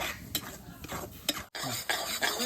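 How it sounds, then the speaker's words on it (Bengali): Raw mango pulp is stirred in a pan over low heat, with close, repeated scrapes of a utensil against the metal and a faint sizzle underneath, broken by one short pause. "ভালোভাবে আমটা নাড়া চেড়ে একটা আঠালো ভাব আসার মতন নাড়াচাড়া দিয়ে নিতে লাগবে"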